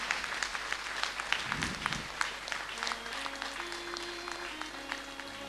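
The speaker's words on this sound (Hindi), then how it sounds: "इनके लिए जोरदार तालियां बजाएं" Audience applause for a music team at a satsang gathering: moderate, steady clapping from a crowd indoors, with faint sustained musical tones rising in the background.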